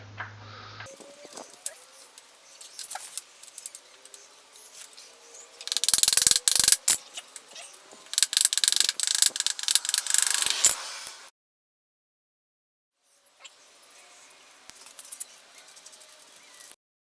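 A ratchet wrench with a 17mm socket loosens the rear sprocket bolts on a Yamaha R6 motorcycle, giving bursts of rapid clicking ratchet noise with pauses between them, close up and with no speech.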